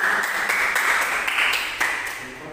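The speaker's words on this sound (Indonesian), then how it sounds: "Tepuk tangan buat Kelly." A classroom bursts into brief clapping for a student during a microteaching math lesson, a steady wash of hands lasting a couple of seconds and fading at the end.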